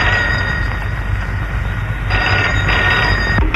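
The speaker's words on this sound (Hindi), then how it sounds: "और तभी अधीर का फोन आ गया।" Telephone ringing in the 1959 Hindi film Sujata, a steady electric bell tone that runs continuously and fairly loud, with no speech over it.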